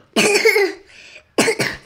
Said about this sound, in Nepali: खोकी लागिरहेको थियो र अहिलेसम्म त ठिकै छ खोक्दाखेरि बुढी दुख्छ